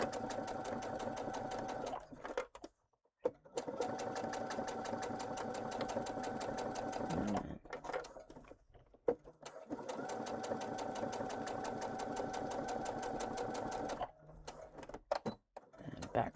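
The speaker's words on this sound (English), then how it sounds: "And back stitch that to lock in those threads." A sewing machine back stitches to lock the threads, fast rhythmic needle chatter in close bursts of several seconds each, separated by brief pauses.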